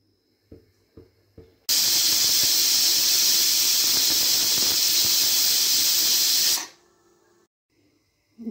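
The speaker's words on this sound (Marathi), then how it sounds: "मी शिट्टी काढलेली त्या शिट्टी घालते आणि 2 शिट्ट्या देऊन घेते." Pressure cooker whistling while drumstick pulao cooks: one loud, sustained shrill whistle of steam runs for about five seconds, then cuts off, with a few faint clicks before and after.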